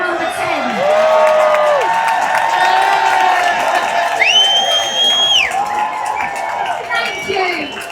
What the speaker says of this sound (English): let's give a massive applause to all of us